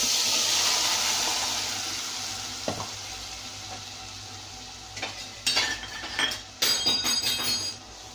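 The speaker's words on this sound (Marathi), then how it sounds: "आता ह्या गरम झालेल्या तेलामध्ये हे मॅरिनेट केलेल्या भाज्या टाका." Marinated vegetables hit hot oil for a Hyderabadi veg biryani and give a loud hiss that slowly fades. Sharp clinks of a utensil stirring against the pot follow.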